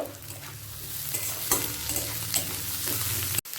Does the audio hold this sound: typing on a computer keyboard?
no